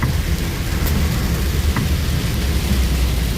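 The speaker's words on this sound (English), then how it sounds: "Pouring down rain," Steady pouring rain with a constant hiss that fills the whole stretch, heard outdoors on the way to a gold-prospecting outing, with no voices.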